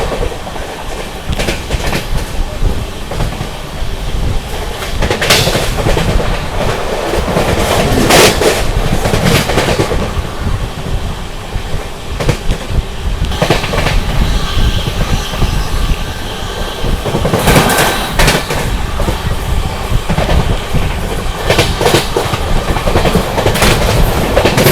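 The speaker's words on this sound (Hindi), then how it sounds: "चलिए दोस्तों, ट्रेन अपनी खुर्जा जंक्शन स्किप करने जा रही है।" 22361 Patna–New Delhi Amrit Bharat Express rushing through Khurja Junction without stopping, a loud, continuous roar of wheels and rolling coaches with rhythmic clickety-clack beats and occasional brighter surges, heard close and alone.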